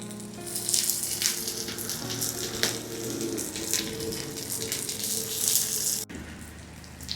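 Chillies and ginger sizzle in hot oil as a tempering for a jowar batter, a steady crackling hiss close by that cuts off abruptly near the end.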